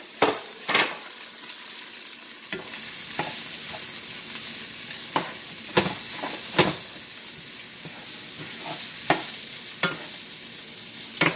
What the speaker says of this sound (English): red peppers, green pepper, yellow pepper, and scotch bonnet pepper. I sauteed everything together.